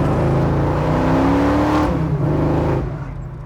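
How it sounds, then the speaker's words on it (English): A 1969 COPO Camaro muscle car pulls hard in low gear, its engine note climbing steadily as it accelerates, loud and close throughout before easing off near the end. "Drop it in low gear, see what we got."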